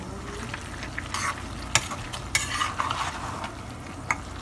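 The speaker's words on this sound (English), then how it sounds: "I guess you stir now." A spoon stirs eggplant and goat meat stewing in a pot. Clinking scrapes against the pot repeat every half second or so over a soft, steady sizzle, close by, with no voices.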